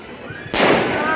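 After a quiet moment, a firecracker bursts loudly close by at a New Year celebration on Marina Beach, its blast trailing into a sustained hissing crackle.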